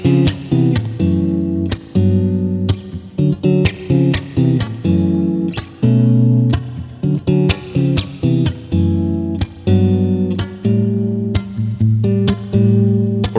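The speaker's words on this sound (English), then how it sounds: "If I were to ask you to describe what a deluxe Fender amp sounded like," Clean electric guitar through a Fender Deluxe tube amp, bright plucked notes and chords played in a lively rhythmic pattern, alone and close.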